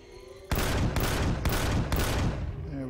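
Four heavy gunshots fired at a turret in Empyrion: Galactic Survival, evenly spaced about half a second apart, each loud and booming with a ringing tail, followed by a faint electronic whine.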